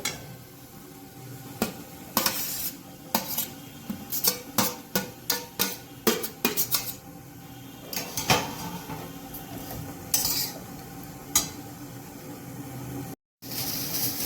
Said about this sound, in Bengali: আমি এবার নারকেলগুলো সব দিয়ে দেবো এর মধ্যে